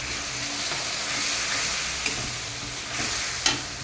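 Ground paste of two garlic cloves, two green chillies and a little ginger sizzling and frying in hot oil with fried rui fish, a continuous close hiss with a few sharp spatters and light stirring.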